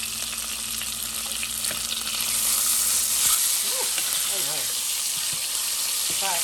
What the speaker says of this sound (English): I'm gonna flip the salmon around, and I've been cooking it on medium heat.